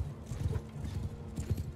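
Cavalry horses galloping in the video game Mount & Blade II: Bannerlord, a quick dense patter of hoofbeats thudding in overlapping rhythm, fairly close and steady for a couple of seconds.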